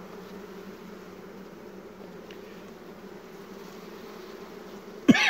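Honey bees hum steadily in an open hive being fed syrup, a low, even, close drone throughout, ending with a sudden brief knock.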